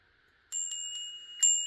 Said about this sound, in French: et ça fait teinter le carillon